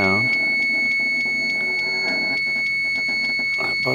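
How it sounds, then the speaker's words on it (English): A steady high-pitched electronic buzzer tone sounds continuously, with muffled voices and background noise underneath it. "That buzzer sure is annoying."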